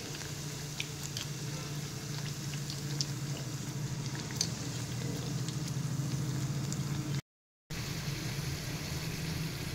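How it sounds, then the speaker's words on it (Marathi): Crispy aloo-palak puris deep-fry in hot oil with a steady, close bubbling sizzle that continues throughout, broken only by a brief silent gap near the end. "आपण या खरपूस अशा पुऱ्या तळून घेऊयात"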